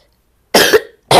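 A person coughing in a room during a sermon, two loud close coughs separated by a brief pause.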